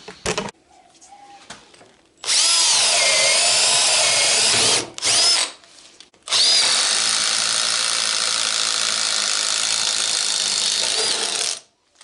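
A drill spins a hybrid pilot spade bit through wood in two loud, sustained whining bursts with a short pause between, preceded by a brief starting whir.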